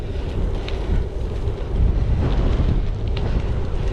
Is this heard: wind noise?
yes